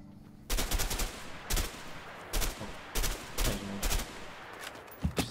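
Gunshots ring out in A Way Out, roughly eight loud, sharp reports spaced irregularly about a second apart, with a final pair of quicker shots at the end and no speech.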